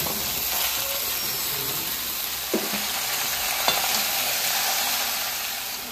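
Chunks of bottle gourd (lau) stir and sizzle steadily in hot oil with bay leaf and radhuni spices, a dense continuous frying hiss with two soft spoon knocks against the pan.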